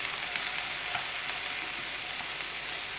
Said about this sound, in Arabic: نخليهم يتقلاو كي يذبل البصل ويهبط كاع